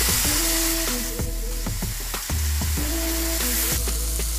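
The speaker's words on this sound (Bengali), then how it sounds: "এবার আমি টমেটোটা এর মধ্যে দিয়ে দিচ্ছি। টমেটোটাও একটু ভেজে নেব 2 মিনিট।" Chopped tomato and onion fry together in a pan for a coconut prawn malai curry, giving a steady close sizzle with occasional stirring knocks, while a tonal musical backing plays throughout.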